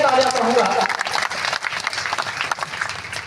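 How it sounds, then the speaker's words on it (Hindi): Audience applause at a village award ceremony honouring achievers, a dense, steady wash of clapping that holds throughout, with voices mixed into the crowd noise. "एक बार जोरदार ऐसी प्रतिभा के लिए तालियां कहूंगा"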